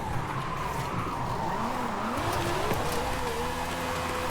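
Tires skid and squeal steadily as a 1993 Jaguar XJ220S TWR drifts in the Forza Horizon racing game, a wavering engine tone rising and falling beneath the continuous slide.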